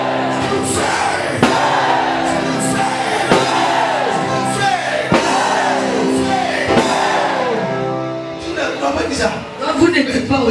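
A church congregation at a revival service in Agapa church, where a visiting preacher from Ghana has just arrived, shouts loudly and continuously, with many voices yelling together in a dense, sustained roar.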